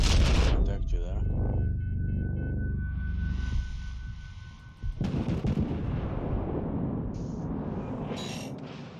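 Naval gunfire from World of Warships Legends battleships slams into a ship's armor belt, heavy booming impacts and rumbling blasts repeating over a continuous sonar-like tone, loud and close.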